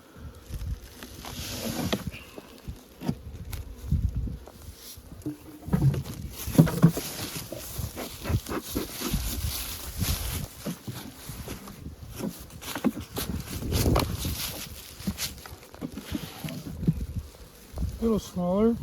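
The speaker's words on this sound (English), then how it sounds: "box of bees there" A box of bees in a summertime split colony hums with buzzing close by, mixed with frequent knocks and handling noises from the hive box, and a voice is heard briefly at moments.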